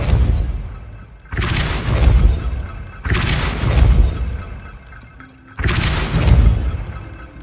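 Depulso spell cast in Hogwarts Legacy, three loud deep booming blasts at even intervals, each a heavy low impact with a rumbling tail that fades before the next.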